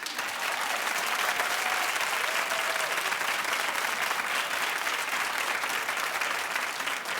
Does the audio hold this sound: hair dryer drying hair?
no